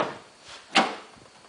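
Repaired door of a 2001 Toyota Camry with a newly installed handle, working once: a soft rustle of movement, then a single sharp latch clack and thud at close range, fading quickly.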